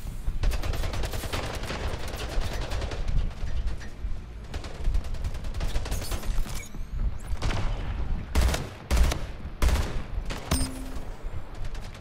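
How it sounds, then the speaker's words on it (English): Battle rifle gunfire in the first-person shooter Splitgate during a team deathmatch, dense rapid bursts of shots layered over game noise, loud and continuous with a few sharper cracks toward the end and no talk. "I love the battle rifle!"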